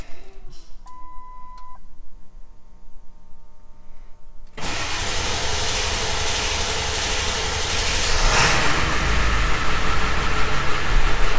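Ford Powerstroke 6.0 diesel truck with its emissions deleted: a few soft chime beeps over a low idle, then a sudden loud, broad engine roar that keeps building as the truck drives off.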